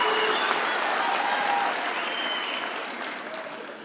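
A large audience at a university campus graduation ceremony applauds in a dense, sustained wash of clapping that slowly fades, with a few voices mixed in.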